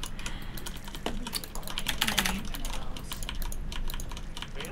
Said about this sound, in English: that was literally me typing good luck high five